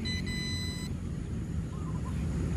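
Short electronic beeps from an MJX B20 EIS 4K drone and its remote control as they power on, a few steady tones in the first second over a constant low rumble.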